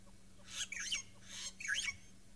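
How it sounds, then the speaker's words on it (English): A Burchell's starling calls twice at close range, two bright, squeaky, warbling phrases about a second apart, each lasting roughly half a second, clear over quiet surroundings. "Have a listen to this Birchall starling."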